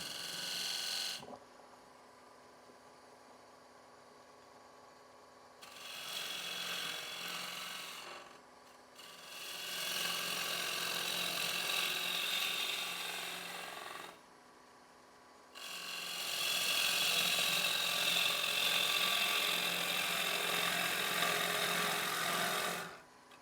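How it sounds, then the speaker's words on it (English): A spindle gouge cuts into a wooden bowl spinning on a lathe, giving rough scraping, rasping bursts in several long passes separated by quieter gaps where the lathe hums on. "I'm just going to mark it with my spindle gouge"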